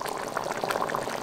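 Rajasthani mutton laal maas bubbles and sizzles steadily in a pan after being poured back in, a close, continuous thick boiling with no talking.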